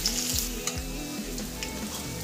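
Onions fry in a pan until lightly browned for ghugni, a continuous close sizzle with a low humming drone underneath and occasional soft crackles, no voices.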